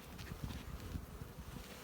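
Honey bees buzz softly around an open hive during a February colony inspection, a faint steady hum with slight swells as individual insects pass close.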